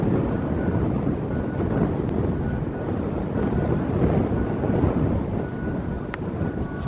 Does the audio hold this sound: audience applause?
no